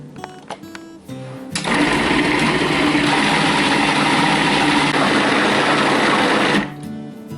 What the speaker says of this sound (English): I put it in my food processor and I fill that up, and I'm going to process the heck out of it